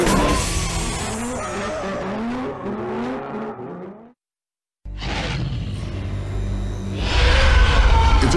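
A drifting car's tires squeal and skid loudly with wavering pitch, then after a brief silence the engine revs hard and the tires screech again close by.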